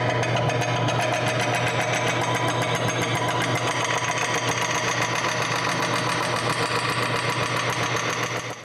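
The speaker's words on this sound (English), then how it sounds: "take the roughing gouge and get it round" Roughing gouge cuts a square wood blank turning on a lathe, making a loud, steady, rattling drone with a motor hum that runs continuously, close, and fades right at the end.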